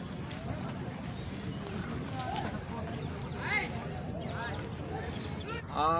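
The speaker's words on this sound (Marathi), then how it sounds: "हा पंजाबी घोडा आहे" Hooves of a Punjabi horse clop at a crowded horse market, the footfalls faint under a busy background and people talking.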